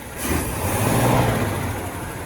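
A 1952 Pontiac engine, left sitting for 40 years, runs in neutral with a loud, close, continuous rumble that swells briefly as if lightly revved, with no talking.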